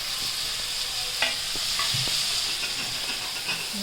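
Chopped capsicum, cabbage, tomato, carrot, peas and onion sizzle steadily in a pan for a pizza puff filling, with a few soft scrapes and taps of stirring over a constant frying hiss and no voices.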